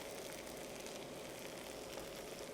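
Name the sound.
ginger garlic paste sautéing in pan for chicken kurma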